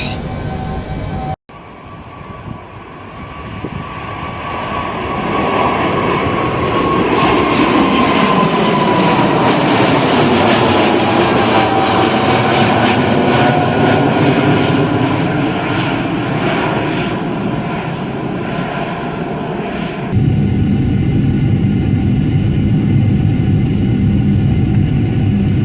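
Simulated Boeing 747-8F jet engines roar loudly and continuously as the plane climbs out of Hong Kong in Microsoft Flight Simulator, swelling to a sustained drone with a sweeping whine before shifting in tone near the end.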